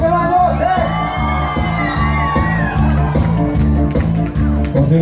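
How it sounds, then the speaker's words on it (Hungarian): At a pálinka festival, a crowd of girls shrieks and whoops loudly over live folk-style music with a steady thumping beat, the screams sustained and close across several seconds. "És akkor gyerünk egy nagy sikítást, kérünk szépen lányok!"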